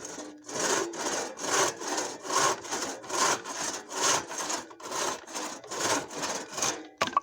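A hacksaw cuts seasoned firewood by hand in a steady rhythm of about a dozen back-and-forth rasping strokes, close and clear with no talking.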